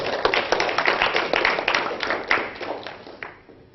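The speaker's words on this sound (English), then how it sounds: "so if we can give him a round of applause" Audience at an Oxford physics society talk claps for a speaker: distinct, fairly close hand claps from a modest crowd, busy at first and thinning out before fading near the end.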